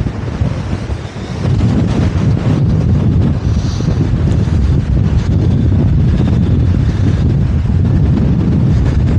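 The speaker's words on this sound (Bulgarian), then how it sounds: "Видяхте колко е силен вятъра." Strong gusting wind buffets the microphone at the entrance to ancient stone monastery ruins, a loud, continuous roaring rumble with rough bursts and no voices over it.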